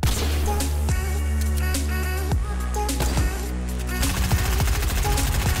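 Gunshots in the video game Fortnite ring out as loud, regularly spaced cracks over a constant, dense tonal backdrop, each shot a sharp burst roughly once a second.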